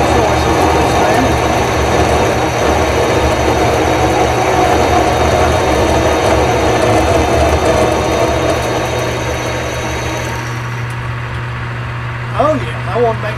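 A metal lathe runs at about 200 RPM in a workshop, a steady close mechanical hum and whir that carries on evenly and then drops lower toward the end.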